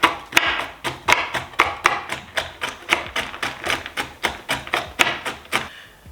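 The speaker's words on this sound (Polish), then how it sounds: "Posiekam je w miarę drobno przy pomocy noża." Knife chopping cashew nuts finely on a board, sharp close taps repeating in an even, brisk rhythm, roughly three per second, with no talking.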